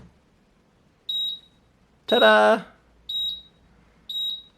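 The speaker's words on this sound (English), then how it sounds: "So the beeping is just to say there's no water container." A Living & Co dehumidifier beeps because its water tank is missing: three pairs of short, high electronic beeps at regular intervals, with a brief exclamation spoken between the first and second pairs.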